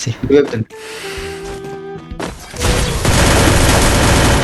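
Gunfire in a mobile shooting-game tournament match, with sustained rapid bursts of shots and spray building up in the second half. A player's voice is heard briefly at the start.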